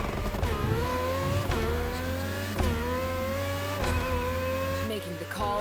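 A race car in a video game drifts, its engine climbing through repeated rising gear sweeps with tire noise, while a player talks excitedly over it.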